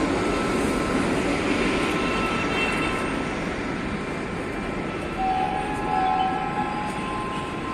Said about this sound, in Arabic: صوت قطر